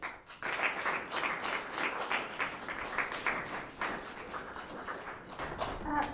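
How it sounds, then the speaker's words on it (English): A youth parliament audience at a closing ceremony claps together, a steady crowd applause with crisp individual hand slaps, moderately distant and sustained for several seconds. "Give yourselves a clap for that."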